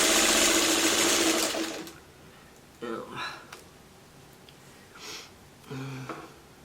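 Sewing machine stitching quilt pieces for a coffee-mug quilt block, a loud steady mechanical whir for the first two seconds, then stopping; short rustles and soft handling noises follow in the quieter stretch.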